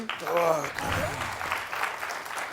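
Applause from a television comedy game show's studio audience, steady broadband clapping running throughout, with a voice speaking over it near the start.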